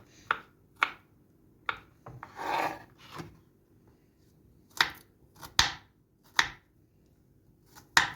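Sharp, irregular chopping strikes of a large heavy knife mincing meat on a board for Hatay tray kebab, separated by pauses, with a brief scraping rasp in between.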